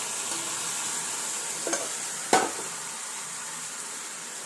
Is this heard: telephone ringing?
no